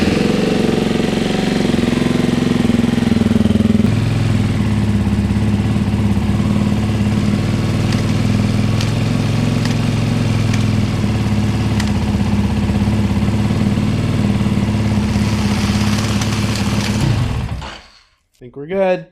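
A 2024 Beta 390 RR-S dirt bike engine runs steadily at close range with a loud, continuous idle and a few small revs, then cuts off abruptly near the end, leaving brief quiet.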